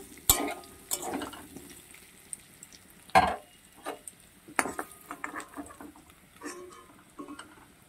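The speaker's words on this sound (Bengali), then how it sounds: "আলুটা ভাজা ভাজা হয়ে গেছে, বটি ভালো করে ভেজে নিয়েছি। এবার আলুগুলোকে তুলে নেব।" Potatoes frying in hot oil in a home kitchen and being lifted out, with soft sizzling under irregular scraping and clinking of a utensil against the pan, several sharper knocks standing out.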